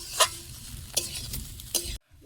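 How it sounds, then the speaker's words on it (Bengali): Food fries and is stirred in a dry kadai with no oil, giving a soft sizzle broken by three distinct, close scraping stirs before it cuts off. "শুকনো কড়ায় ভাজছি কিন্তু কড়ার গায়ে লাগবে না।"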